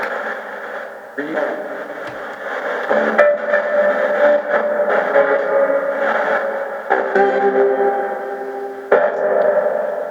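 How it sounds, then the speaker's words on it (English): Loud radio static from a Micro Portal spirit box, a harsh, continuous sweeping hiss chopped by abrupt changes as the scan jumps, with brief clicks. "You just want to cut down some of that loud static."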